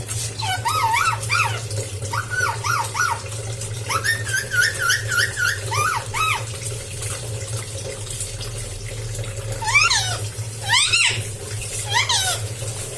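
A pet parrot bathing in water during its molting period gives repeated chirps and whistles over a steady background hum and running-water noise, close and moderately loud throughout.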